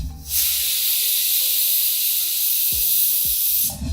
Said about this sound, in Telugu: రెండు విజిల్స్ వచ్చినాయి, మనం కుక్కర్ ఆపేసేయచ్చు, స్టవ్ ఆపేసేయచ్చు.